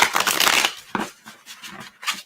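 A deck of cat-themed oracle cards is shuffled close by, a dense riffling flutter followed by several shorter crisp card slaps and taps.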